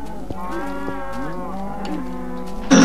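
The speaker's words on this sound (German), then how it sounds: "Oh, scheiß Kühe." Cows in the Minecraft video game moo several times in a row, loud and close with wavering low calls, followed by a sharp burst of noise at the end, with no talk.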